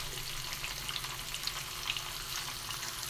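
Fish coated in turmeric powder cooks in a pan for fish curry, a quiet, steady sizzle with faint crackles and small pops scattered across the few seconds.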